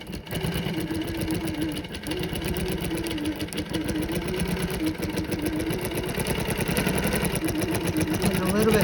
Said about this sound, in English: You'll hear my machine as it kind of struggles going through it